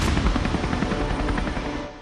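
A helicopter roars at a Maharashtra election campaign site, its dense, loud rotor and engine wash steady and close for a moment before easing slightly at the end.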